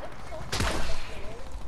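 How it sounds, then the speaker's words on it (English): Gunfire in Fortnite: a single sharp shot bursts out midway, loud and close, over steady game ambience with faint background sound. "I'm shooting at that guy."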